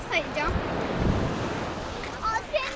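Sea waves on Cleopatra beach in Alanya, Turkey, in February: a soft steady wash of surf with wind buffeting the microphone, a couple of brief voices in the background.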